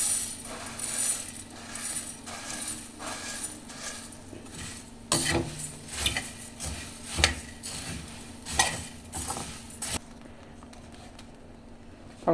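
Puffed rice tumbles into a pan with roasted peanuts and spices for Nagpuri bhadang bhel, followed by repeated scraping and clattering stirs, with metal tapping the pan in an uneven rhythm before the pan goes quiet.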